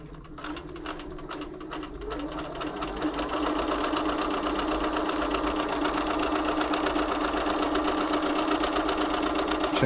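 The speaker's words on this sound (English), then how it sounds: "Right, basic straight stitch first." Bernina B325 sewing machine running a straight stitch during a service, a rapid mechanical whirring and ticking that starts softer and builds to a steady, close hum.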